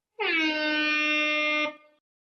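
A single long, loud, brassy car horn blast played as a sound effect through a Tronsmart Halo 300 Bluetooth speaker, holding steady for about a second and a half, then cutting off, with no voices around it.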